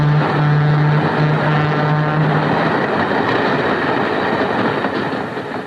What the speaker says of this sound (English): Most familiar sign of this revolution is the diesel locomotive, with its increased speed, its power to pull longer and heavier trains